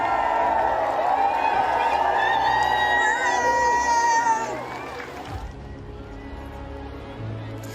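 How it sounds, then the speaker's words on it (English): Crowds in Windsor cheer for the new King Charles III, a dense roar of voices and whoops that stays loud before fading into murmuring chatter with some talk beneath. "The cheers from the crowds for the new monarch"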